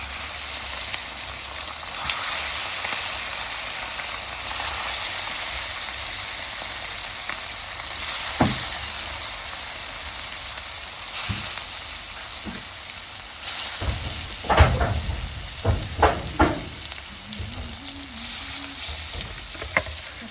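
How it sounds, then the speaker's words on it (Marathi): Fish frying in hot oil, a steady sizzle running throughout, with several sharp bursts of crackling and spattering later as pieces hit the pan, close and moderately loud, with no talk. "तेल गरम झाल्यावरती ना याच्यामध्ये मच्छी टाकायची. आता तेल मस्त टाकले, आता याच्यामध्ये टाकून घेते मच्छी."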